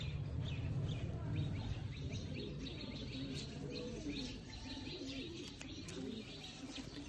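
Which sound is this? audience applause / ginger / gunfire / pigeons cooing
pigeons cooing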